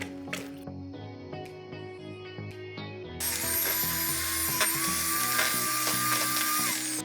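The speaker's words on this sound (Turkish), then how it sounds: "mikserle iyice çırpılır." A loud electric mixer whips labneh cream cheese and liquid cream, starting with a lighter, lower hum and then jumping to a harsher, higher-pitched whine for the rest of the clip.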